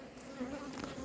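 Honeybees from newly caught swarms hum in a faint, steady drone for about a second, with no voices.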